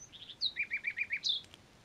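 A nightingale sings a short phrase of rapid, repeated bright chirps and trills, faint and clear against a quiet background as an effect in a told story.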